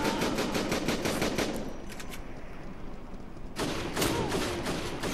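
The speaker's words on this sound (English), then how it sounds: "Those shotguns just rip you to pieces." Rapid shotgun fire in the video game Syphon Filter: The Omega Strain, with dense bursts of loud blasts, a short lull with rumbling, then another volley, no talking.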